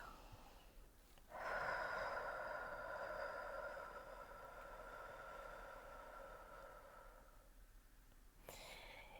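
A slow, steady exhalation during a guided relaxation exercise, a long soft airy breath lasting several seconds, close and quiet, fading gradually toward the end with a brief rustle after.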